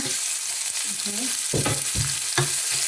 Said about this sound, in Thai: กระทะเราร้อนแล้วนะแล้วก็ตามด้วยหมูไปเลยนะ